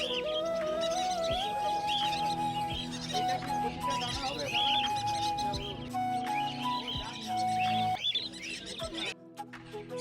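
Small birds chirp and tweet at a Sunday weekly market, with thin repeated calls layered over a dense, steady murmur of crowd noise and market clatter.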